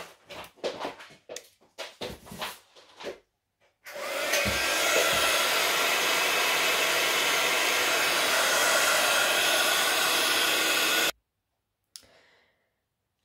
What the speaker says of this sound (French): Et je vais venir sécher au heat gun.